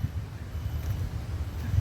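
Strong wind at the Pasir Ris Park beach buffets the microphone with a faint, low, irregular rumbling that pulses throughout, with no voices.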